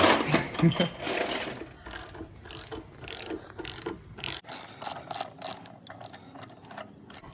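A wrench works loose a bolt on a seized 1969 440 engine, producing rapid, irregular metallic ratcheting clicks and scraping. The sound is close and busy with uneven bursts throughout, and no one speaks over it.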